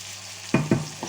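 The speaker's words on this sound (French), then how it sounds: "Allez, on remue." Tartiflette ingredients with lardons are stirred in a pan: after a quiet moment, two quick scraping strokes and a lighter third one rise over a soft sizzle.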